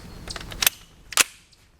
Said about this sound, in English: We're going to shoot the same assortment this time. 2 rounds of the 115 grain. 5 rounds of the 147 grain and 5 of the 165 grain.